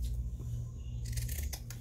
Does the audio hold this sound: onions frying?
no